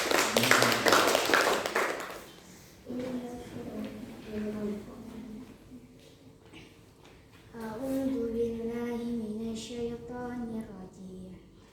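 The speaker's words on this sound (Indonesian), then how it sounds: "Tepuk tangan untuk kelompok 3." A classroom applauds a student group: a brief, dense burst of clapping fills the first two seconds, then gives way to speaking voices.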